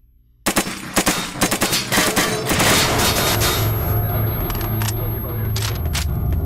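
Gunfire in STALKER starts abruptly with a rapid string of loud cracking shots, then swells into a heavy, sustained explosive roar that slowly eases off, with a voice faintly present underneath.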